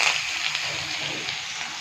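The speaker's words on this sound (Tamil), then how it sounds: "கடுகு நல்லா பொரியுதுங்க" Mustard seeds splutter and crackle in hot oil as crushed garlic is added, producing a continuous close sizzle with small pops, no voices.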